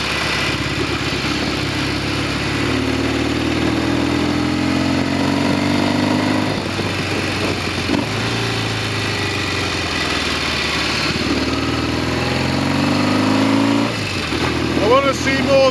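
Norton Commando 750 motorcycle engine ticking over at idle, a steady loud low rumble running continuously throughout with slight fluctuations in pitch.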